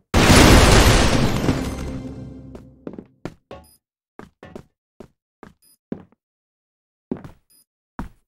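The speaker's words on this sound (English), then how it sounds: "Flash bomb." A flash bomb goes off in the shooter game Crossfire during a ranked search-and-destroy match: a loud burst rings out and decays over about two seconds, followed by a string of short, sharp thuds and clicks.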